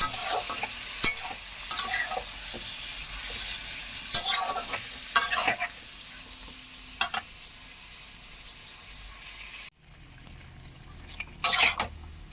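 Goat meat frying in a pan with a steady loud sizzle, broken by repeated scraping clicks of a spoon stirring the pieces, then a brief quieter pause before more stirring knocks.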